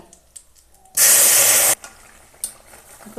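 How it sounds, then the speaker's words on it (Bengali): Fish curry with prawns and Malabar spinach poured into a hot radhuni tempering sets off a loud burst of sizzling that lasts under a second, then settles to quiet bubbling with a few small clinks. "ফোড়নটা ভাজা হয়ে গেছে এখন তরকারিটা ঢেলে দেব"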